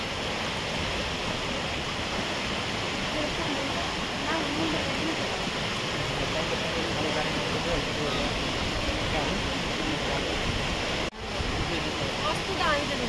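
Water from Bridal Falls in New Zealand roars as a steady, full rush that holds level throughout, with voices faintly present beneath the constant noise.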